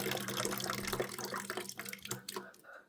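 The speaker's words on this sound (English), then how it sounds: "And then I drain it into this bucket, which gives me this brownish water." Brownish beet water drains into a bucket during farm chores in an ice storm, a steady close splashing pour that thins and breaks into trickles toward the end.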